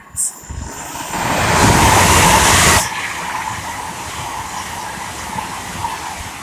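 A Hull Trains Class 800 rushes past close by on the East Coast Main Line at Welham Green, with a loud, swelling roar and hiss that cuts off abruptly, leaving steady rumbling background noise.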